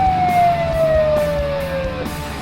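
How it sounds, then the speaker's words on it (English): A loud wailing siren sweeps slowly downward in pitch, close and continuous over low engine rumble. "Let the ambulance through."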